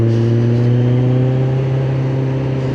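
Motorcycle engine held at steady revs and building slightly while the rider waits to overtake on the road, with a loud, close, continuous drone of stable engine tones and no talk.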